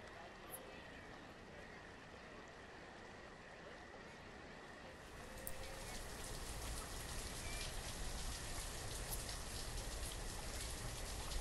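Rain falls on the map in the video game Banished as a steady faint hiss that grows denser and louder partway through, with some speech mixed in.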